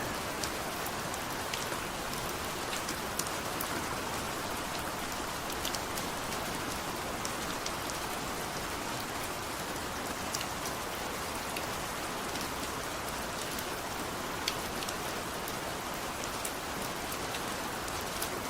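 Heavy rain pours down outdoors in Balasore, a dense, unbroken roar of drops that holds steady and loud throughout, with no voices.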